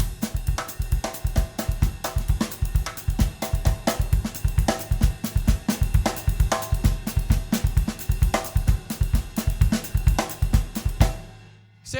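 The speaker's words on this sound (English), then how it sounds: "it'll sound like this at a faster tempo with the snare drum" A drum kit plays a fast, steady groove with muted rim shots on the snare over a driving kick pattern, dense and close for about eleven seconds before ringing out.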